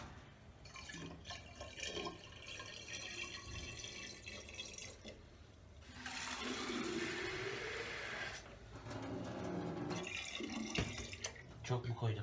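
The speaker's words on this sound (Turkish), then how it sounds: "Çeşme suyu da dökelim içine şöyle." Tap water pours into an ice-filled hookah base, a broad splashing fill that grows louder midway, with someone talking at moderate level throughout.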